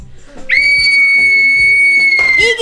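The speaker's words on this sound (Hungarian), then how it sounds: "Tudjátok, hogy kell fütyülni?" A person gives a loud, sustained whistle, one long steady high note held for about two seconds and ending in a short falling slide, over faint background noise.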